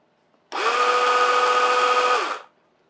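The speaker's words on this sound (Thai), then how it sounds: "อันนี้คือเสียงโซ่นะครับประมาณนี้" A cordless pole chainsaw for trimming branches spins its chain for about two seconds, giving one steady, close motor whine that starts and stops abruptly against near silence.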